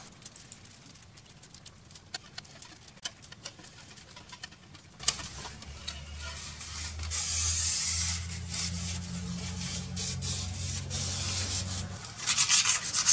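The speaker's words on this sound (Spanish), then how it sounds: "Quito el revestimiento para exponer el níquel." Steady scraping and rubbing to strip the coating off a nickel welding electrode rod, a grinding rasp that grows louder and continuous midway through, close up with no talking.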